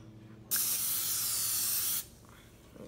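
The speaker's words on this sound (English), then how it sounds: "So we're going to want to use cooking spray first on both top and bottom." Carlini olive oil cooking spray sprayed onto an Ambiano mini waffle maker: one loud, close, continuous hiss lasting about a second and a half, with quiet before and after.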